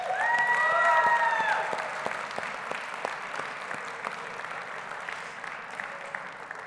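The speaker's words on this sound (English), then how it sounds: "I think we can actually give all our contestants one big round of applause again" A pageant audience at Mr Gay World South Africa applauds the contestants, with a warm round of clapping that starts loudest and slowly thins while a sustained electronic tone fades out early on.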